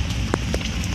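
Heavy rain pours outdoors at Gelora Bung Karno stadium in Jakarta during the 2018 Asian Games closing ceremony, a dense, close, continuous hiss of falling water.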